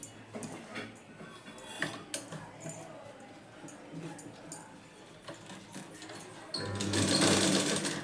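Sewing machine stitching a blouse back panel, a steady rapid mechanical chatter with brief pauses and small clicks, then a louder faster burst near the end, close and alone.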